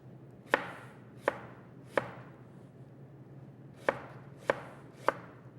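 A knife chops and dices an onion on a cutting board in six crisp, close knocks, spaced unevenly with a short pause in the middle, over a quiet room hum.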